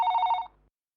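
A telephone bell rings once in a short, loud burst and then cuts off abruptly into silence, heard indoors in a Tamil short film with no talking.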